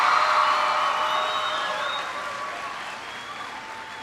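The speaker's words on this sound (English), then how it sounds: "Give yourselves a big round of applause." Students clap together as a school audience in a steady wash of applause, starting loud and gradually thinning out over a few seconds.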